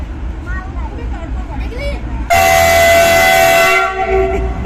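A passing train sounds a loud, sustained horn blast at close range that cuts in sharply after a stretch of talking, then rumbles and fades slightly as it carries on.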